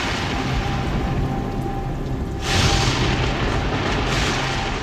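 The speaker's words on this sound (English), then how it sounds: "Looks like there's a nasty storm on the way." A thunderstorm in a theatrical staging pours steady broadband rain for the whole stretch, with a deep roll of thunder swelling in about halfway through and rumbling on beneath the downpour, loud and close, with no voices.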